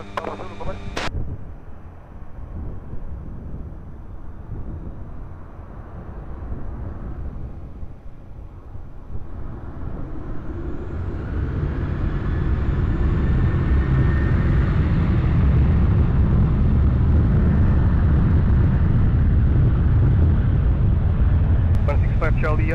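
A plane taking off from runway 20 at Lisbon Airport: a low jet roar swells over several seconds and stays loud and steady, with a brief sharp sound at the very start.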